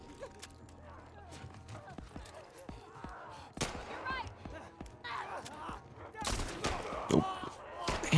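Video game gunfire crackles in irregular bursts of sharp shots, some single and some clustered, with louder volleys near the end, mixed under excited talking.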